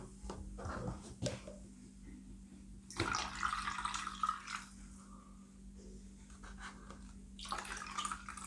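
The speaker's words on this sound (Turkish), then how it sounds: "filtreye az kahve posası koyarsanız o kadar hızlı süzülüyor" Cold brew coffee grounds draining through a paper filter, with faint, sparse drips and small trickling splashes in irregular bursts over a low steady hum.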